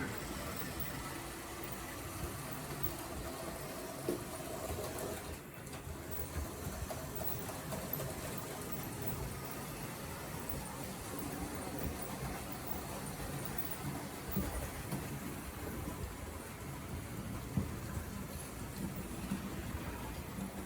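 A steady mechanical hum and rumble of a BRAWA E42 model electric locomotive running continuously along track, fairly even in loudness with no voices.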